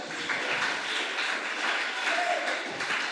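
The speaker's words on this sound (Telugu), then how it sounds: "క్లాప్స్ కొట్టండి అక్క కోసం." An audience of children and adults at a VBS magic show claps for a girl, a steady dense patter of applause lasting throughout.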